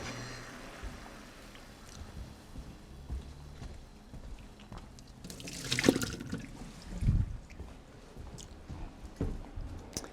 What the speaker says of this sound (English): So I have to discard the water